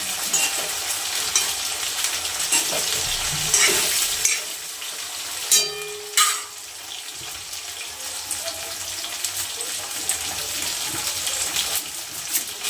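Cauliflower florets frying in hot oil, a steady sizzle with a few louder bursts and clatters midway, no voices.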